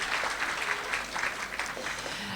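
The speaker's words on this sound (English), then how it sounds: "let's just give these colleagues another round of applause and welcome into our family." An audience at a Western Cape education gathering applauds to welcome new colleagues, producing a continuous, even wash of clapping throughout with no voices over it.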